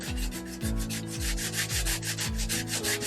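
Rhythmic hand sanding on a wrecked Fiero's car body panel, repeated back-and-forth strokes with a steady scratchy rasp, close and alone with no talking.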